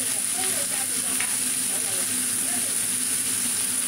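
Bitter gourd sautéing in a pan, a steady continuous sizzle and hiss close by, with faint stirring and a voice murmuring softly underneath.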